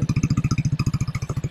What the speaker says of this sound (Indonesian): Ini adalah bunyi dari knalpot si Aero.